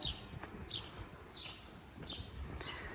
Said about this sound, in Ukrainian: Ви тільки почуєте цей спів пташок.